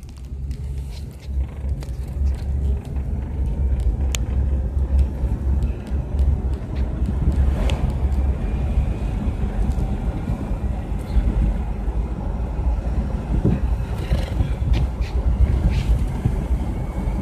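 A Ford electric vehicle conversion, running on a questionable battery pack without battery management, drives a test lap, giving a steady low rumble of road and wind noise throughout with no engine roar and a few faint knocks.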